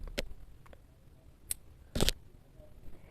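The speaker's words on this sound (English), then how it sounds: "Now I want to cut the yarn and hide it." Scissors cut crochet yarn in a few quiet, crisp snips, with a slightly louder double snip near the end against a faint, quiet background.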